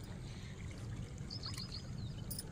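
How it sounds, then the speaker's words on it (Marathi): Water pours into a farm field during irrigation on a pumpkin farm, a faint, steady rushing flow with no talking. "आणि आता पाणी भरायचं काम सुरू"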